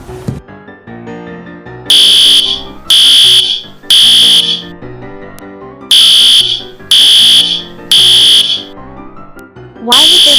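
A school fire alarm rings in six or seven loud, shrill bursts of about a second each, separated by short gaps, over a steady background of music or tones.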